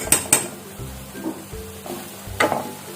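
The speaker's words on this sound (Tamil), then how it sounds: "இப்போது நல்லா இதை கிண்டுவோம்" A spoon stirs prawn fry with turmeric powder in a pan, with a few sharp clinks against the metal and soft scraping and sizzling in between, fairly close and with no talking.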